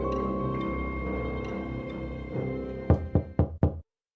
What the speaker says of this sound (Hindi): आ रहा हूं, इतना भी क्या दरवाजा पीटना।